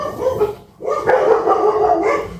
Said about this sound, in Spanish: Perros, para variar los perros.